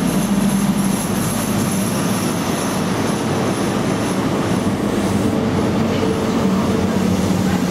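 A Class 43 HST diesel train's heavy engine rumbles steadily at close range at Bridgend station, a constant low drone with a faint hum, and no voices.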